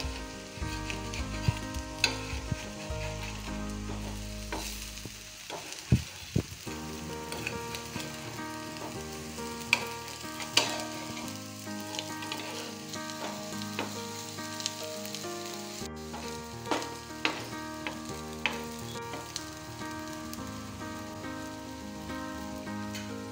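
Vegetable cutlets shallow-frying in a pan, with a soft continuous sizzle and sparse clicks and scrapes from turning, fairly quiet and without voices.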